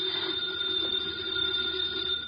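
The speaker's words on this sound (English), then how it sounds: "The phone is ringing. Let it ring." A telephone rings in an old radio drama, a steady electric bell tone sounding alone at moderate volume for a couple of seconds.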